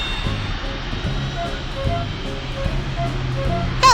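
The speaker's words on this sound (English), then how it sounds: "Fly the plane and explore the sky." In the BabyBus pilot game, a small cartoon airplane's engine drones steadily and evenly throughout, with a faint rhythmic pulse, moderately loud, and a brief bright tone at the end.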